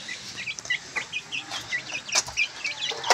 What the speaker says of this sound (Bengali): মুরগিটা